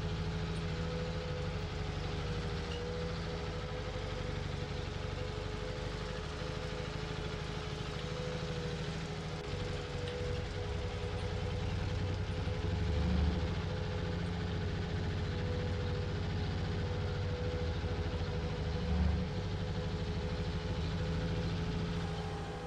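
A T150 tractor engine labours in Farming Simulator 19, a continuous loud low drone with a steady mechanical hum that swells slightly as it strains, alone without talk.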